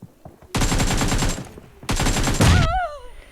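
Gunfire in PUBG, two sustained bursts of rapid automatic shots, loud and close, each lasting about a second, the second ending in a ringing, wavering tail.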